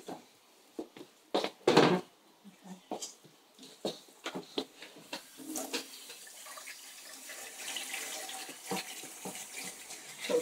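Water running and splashing in a sink while things are washed, faint and intermittent with clatters, under a child's and adult's voices talking.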